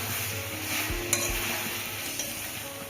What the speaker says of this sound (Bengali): মশলাটা এবার কষে নেব